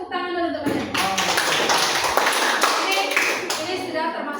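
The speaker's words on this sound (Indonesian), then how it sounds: "Tepuk tangan dulu untuk kalian." Students in a classroom clap their hands together, a burst of brisk, overlapping claps lasting a few seconds, fairly close, with a teacher's voice heard around it.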